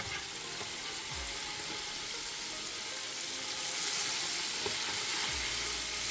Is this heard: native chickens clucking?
no